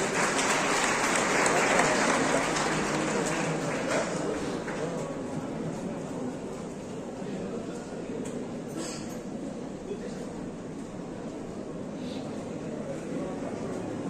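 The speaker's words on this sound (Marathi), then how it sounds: "टाळ्या वाजवून सगळेजण स्वागत करूया" Applause from a school lecture audience welcoming a minister, a broad wash of clapping that is strongest at first and then thins into a quieter steady patter, faint and distant with some background murmur.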